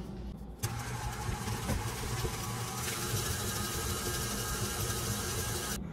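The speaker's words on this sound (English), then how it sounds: "we're gonna try and use the paddle attachment" Stand mixer fitted with a paddle attachment beating vegan peanut butter frosting, a steady close motor whir with a low hum running continuously without talk.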